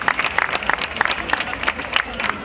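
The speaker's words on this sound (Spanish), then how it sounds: "Un aplauso para Celia." Audience applause for a young municipal representative at a local pageant, a lively crowd clapping briskly with sharp, close hand claps throughout.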